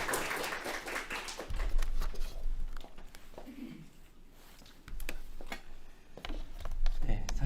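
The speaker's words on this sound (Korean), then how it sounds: "다시 한번 큰 박수 부탁드립니다" An audience at a welfare centre case-sharing event claps after a presentation, the applause rising in a few brief waves, with a voice talking over it in between.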